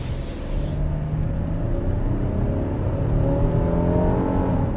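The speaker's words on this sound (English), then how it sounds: "a V6 sounds freaking good" A Kia Telluride's V6 pulls hard in sport mode, a loud, smooth engine note rising steadily from inside the cabin with a continuous low rumble and road noise beneath, no voices.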